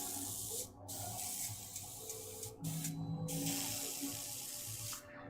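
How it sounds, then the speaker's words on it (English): An air compressor limited to 19 PSI drives a spray nozzle, giving a steady close hiss that cuts off briefly a few times before resuming. "My air compressor only goes up to 19 PSI."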